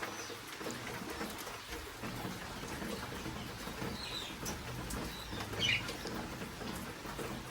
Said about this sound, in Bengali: আমাদের বাইরে বৃষ্টি পড়ছে